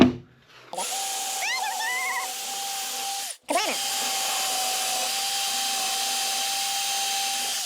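A power drill whirs steadily up close while building a planter box, cuts out for a moment, then spins back up and keeps running.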